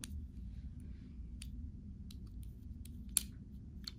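A Bernina sewing machine walking foot snaps into position with a single sharp click near the end, preceded by a few softer clicks over a low steady hum.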